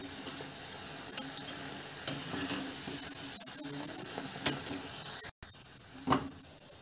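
Sago fritters (saggubiyyam punukulu) deep-frying in oil, a steady, even sizzle and crackle throughout with a few soft clinks and stirring sounds, no voices.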